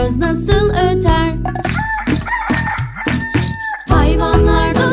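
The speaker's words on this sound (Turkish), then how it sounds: "Bir horoz nasıl öter?" A rooster crows loudly several times in close succession, the rising and falling calls following one another, mixed with clucking fowl and other barnyard bird sounds.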